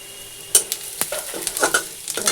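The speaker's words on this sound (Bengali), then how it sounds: "ফোড়ন দেবো" Tempering of onion, dried red chillies, nigella seeds and bay leaf crackles in hot oil. Sharp spits and pops sit over a light sizzle in a short, lively burst.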